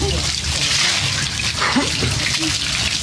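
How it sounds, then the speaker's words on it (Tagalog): A faucet runs steadily while dogs are washed with shampoo at an animal shelter, a continuous rushing splash that fills the whole clip with faint voices in the background. "Hindi na masyadong malakas kasi itong gripo eh."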